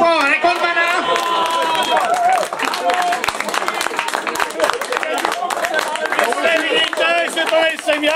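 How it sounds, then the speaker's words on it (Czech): Studio audience breaks into sustained applause for a record holder at a Czech entertainment show, dense clapping mixed with cheers and voices, loud and close throughout. "potlesk pro rekordmana"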